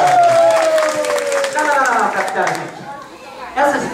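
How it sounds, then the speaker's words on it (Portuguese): An audience at a children's cultural event claps and cheers loudly while people shout and chatter over it, a lively, dense burst of noise close by. "Pra minha Laura, uma salva de palmas pra todas as crianças."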